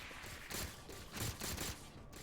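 A plasma pistol firing in the Halo 4 video game, a quick run of repeated energy bursts in an uneven rhythm, faint in the mix with no speech.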